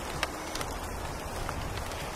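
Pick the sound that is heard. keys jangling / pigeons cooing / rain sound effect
rain sound effect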